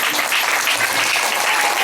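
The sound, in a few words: congregation clapping loudly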